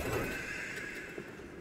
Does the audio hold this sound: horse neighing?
yes